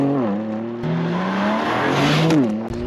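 A non-hybrid BMW M3 Touring engine revs hard toward high rpm, pitch climbing steadily with a brief drop at a gear change, loud and close from inside the car, no talk.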